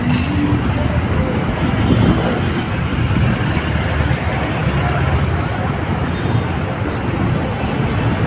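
Busy street traffic in Divisoria, Manila, crowded with e-trikes and vendors, makes a dense, loud, constant roadway roar, with vehicle horns and indistinct voices mixed in.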